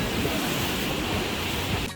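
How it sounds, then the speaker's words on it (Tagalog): Surf washing in at the shore on Siargao island, a steady broadband roar of breaking waves mixed with wind buffeting the microphone, continuous and close, fading slightly at the very end. "Alon talaga dito guys."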